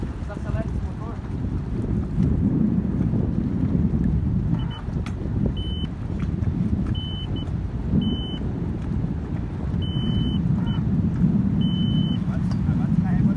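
Boat motor idling and revving at a breakwater jetty, a low rumbling drone under wind noise, with intermittent high beeps and people talking over it.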